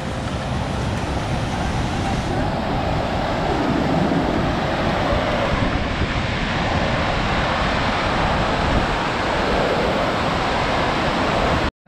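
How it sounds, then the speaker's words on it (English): A tiny river flowing under a bridge on the Kungsleden trail between Hemavan and Ammarnäs, a steady, loud broadband rush of water that continues without a break throughout. "It's a tiny river, Servejuka."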